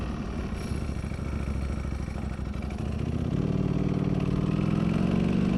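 A Ducati V4R motorcycle engine fitted with a new clutch runs steadily at low speed, a continuous rumbling drone that rises slightly in pitch partway through, loud and close, with no talking.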